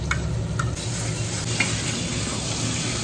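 Meat stirred and fried in a pan, a steady close sizzle with occasional light scrapes and clinks of the spoon against the pan.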